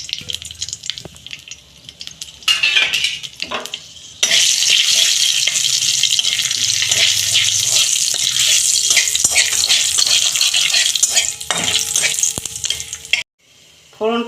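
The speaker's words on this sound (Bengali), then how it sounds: "ফোড়নটা ভাজা হয়ে গেছে" Whole spices, a bay leaf, a dried red chilli and five-spice, tempering in hot oil, a loud continuous sizzle that flares up suddenly partway through, with stirring clatter around it and no speech.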